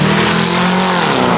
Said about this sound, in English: That was a Corvette and it did not sound like one